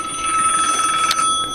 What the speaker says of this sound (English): My phone's ringing, but nothing's lighting up.